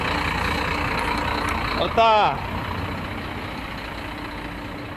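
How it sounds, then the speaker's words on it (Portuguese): A truck idles steadily while reversing to hitch a trailer, with a sharp squealing chirp about midway and a voice speaking briefly. "Vamos pôr o caminhão ali engatado ali pra ver o que que vai pegar aí"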